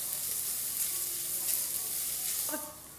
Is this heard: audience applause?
no